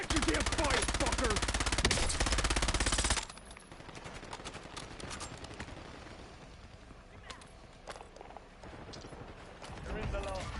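Warzone gunfire: a loud, sustained automatic burst for about three seconds, then quieter, scattered shots and battle noise under faint voices.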